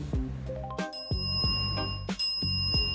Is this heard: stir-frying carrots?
no